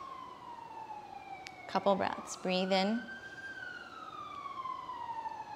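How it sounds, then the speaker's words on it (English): Emergency vehicle siren passing on a main street outside a yoga studio, a steady wail sliding in pitch under a calm voice giving breathing instructions. "I apologize if you hear any sirens."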